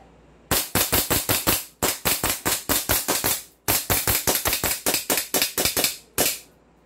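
Hi-Capa airsoft gas pistol, a 2011 Hi-Capa Infinity 5.1, fires in rapid bursts of sharp cracks, roughly a dozen quick shots per string with brief pauses between strings, loud and close with no talking.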